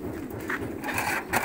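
Pigeons at a pigeon farm in Chuong My, Hanoi, give soft, low, repeated coos in a quick rhythmic pattern, fairly faint against background noise, with no speech.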